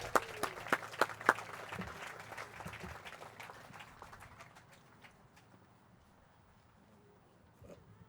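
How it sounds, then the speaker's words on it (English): A small outdoor crowd at a ribbon-cutting ceremony for a boardwalk claps, starting with sharp, fairly close hand claps that thin out and fade to sparse scattered claps and quiet murmurs. "Give yourself a round of applause."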